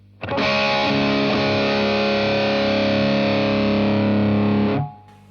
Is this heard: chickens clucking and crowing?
no